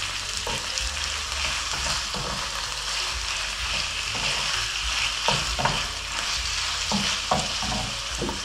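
Minced meat stirred in a frying pan as it browns for stuffed zucchini boats, with a steady close sizzle and repeated scraping stir strokes throughout, no talking.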